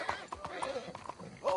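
A horse whinnies and neighs while its hooves clop in an outdoor scene from the video game Red Dead Redemption 2, with voices talking over the animal throughout.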